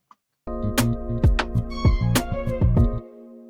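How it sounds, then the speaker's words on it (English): A basic lick on a Shaka synth lead preset, treated with reverb, rides over a bouncy beat, with sustained bright notes and sharp low hits, then cuts to silence. "So this is it here with some reverb"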